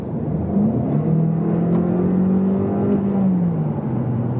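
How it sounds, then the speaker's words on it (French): A 2020 Volkswagen Golf 7 GTE plug-in hybrid, combining petrol and electric power for 210 horsepower, accelerates in GTE mode, its engine note rising steadily and then easing under constant road and cabin noise. "si par exemple je me mets en GTE, j'accélère"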